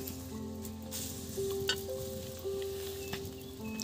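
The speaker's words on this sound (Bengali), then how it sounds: "গরম করে ফুটছে এখন" Amla for morabba bubbling and sizzling in a hot pan, a steady, close crackle with faint higher tones running through it and a small spike near the middle.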